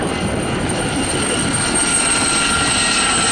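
A single-engine Aérospatiale Gazelle helicopter roars loudly and continuously close by at an airshow, its rotor and engine drone unbroken, with no voices.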